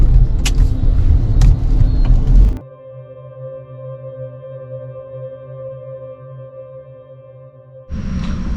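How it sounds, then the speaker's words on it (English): A car sits in a bad traffic jam in Aurangabad, held up by a political rally. Loud engine and road rumble gives way to a long, quieter, steady idling hum with faint tones, then the heavy rumble returns. "stuck in a bad traffic because of some political rally which is going on"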